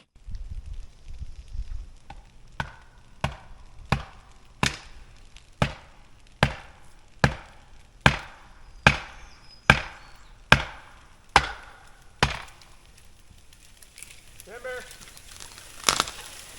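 Wedges are hammered into a tree trunk during tree felling, a series of about a dozen sharp, evenly spaced metallic strikes ringing out loud and close, ending with a few scattered knocks.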